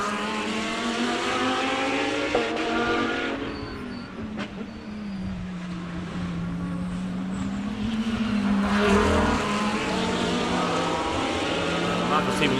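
Lamborghini race cars in race 2 of a live circuit race, engines droning steadily and loudly as they chase each other around the track, with a commentator talking over the noise throughout.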